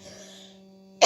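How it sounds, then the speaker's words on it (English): A single harsh cough or throat clear bursts out abruptly at the end, loud and close, after a quiet stretch of faint tonal hum. "sorry if I'm gonna be coughing the whole time"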